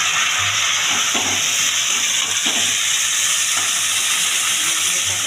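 Potato-pea curry with chopped tomato frying in a pan: a loud, continuous hiss and sizzle with a few faint stirring scrapes, close by and with no talk.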